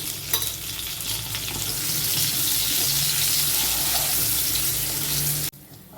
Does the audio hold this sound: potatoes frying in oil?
yes